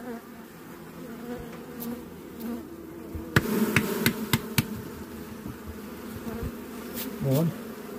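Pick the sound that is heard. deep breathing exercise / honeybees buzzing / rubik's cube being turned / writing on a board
honeybees buzzing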